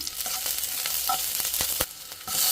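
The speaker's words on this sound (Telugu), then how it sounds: "ఇప్పుడు ఆవాలు, ఆనియన్స్, కరివేపాకు," Mustard seeds, chopped onions and curry leaves fry in ghee for a vegetable soup, giving a steady close sizzle with faint stirring scrapes and a few sharp seed pops throughout.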